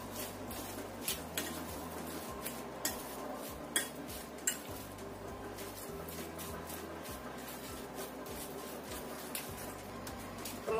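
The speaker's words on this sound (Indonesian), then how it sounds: "Kita aduk lagi." A spoon stirs snack batter with an added egg in a bowl, giving a steady rhythmic scraping and clinking that repeats about once a second, close and moderately loud.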